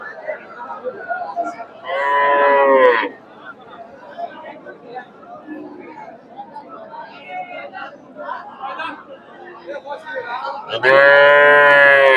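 Cattle at the Raniganj cattle market, including emaciated animals, give two loud, drawn-out moos, one early and one at the end, with steady crowd chatter in between.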